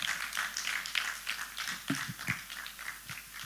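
Audience applause for a participant at a live traders bootcamp, a soft, steady patter of many hands with a few louder individual claps mixed in, fairly faint and distant throughout.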